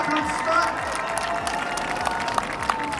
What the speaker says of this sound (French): Pas mal d'applaudissements